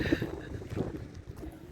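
Wind gusting at the seaside in Fromentine on a chilly morning, a steady low rumbling buffet across the microphone with no clear pauses, fairly close and moderately loud.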